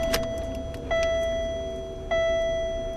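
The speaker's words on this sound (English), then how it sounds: "Turn the car on and see what happens here." A 1996 Buick Park Avenue being switched on: two sharp chime tones sound about a second apart, each ringing steadily, over a low background rumble, with faint clicks at the start.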